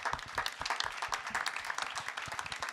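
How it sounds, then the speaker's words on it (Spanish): An audience at a magazine launch presentation in a cultural venue gives a brief, fairly soft round of applause, with many overlapping hand claps heard from a slight distance. "Un aplauso."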